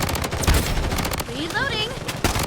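Rapid gunfire in the video game Bloodstrike during a ranked match, a dense burst of shots up front with game voice effects and chatter layered over the shooting.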